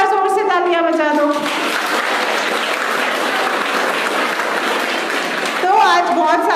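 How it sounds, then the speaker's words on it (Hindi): An audience of children claps loudly in a dense burst of applause lasting several seconds, with an adult voice speaking just before and again as the clapping ends. "तो धाद के लिए भी एक बार जोर से तालियां बजा दो।"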